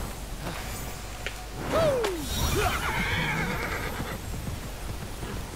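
A horse in the video game Immortals Fenyx Rising gives a loud, clear whinny with a falling pitch, followed by a short snort, over a quiet game ambience with a few faint thumps.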